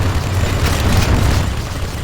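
Infernal cannon artillery fire in the strategy game C&C Generals Contra, a dense, loud rumble of overlapping booms and blasts sustained across the whole moment with no talk.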